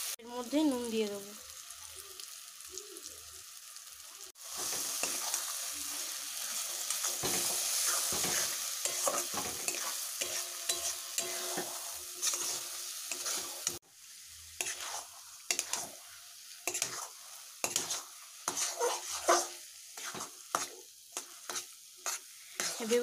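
Eggplant bharta with onion, tomato, capsicum and green chilli stirred and fried in a wok, a close sizzle punctuated by frequent rhythmic scraping of the spatula, with a short voice at the start.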